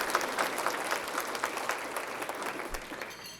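Applause from an audience of several hundred at a local economic development corporation's annual meeting, a steady dense clapping that slowly thins over a few seconds, with no talking.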